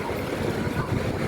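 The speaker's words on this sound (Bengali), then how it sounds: "প্রচুর ঢেউ" Ocean waves wash in at a Kuwait beach at night in cold wind, giving a brief, loud, rushing roar with wind buffeting close to the microphone.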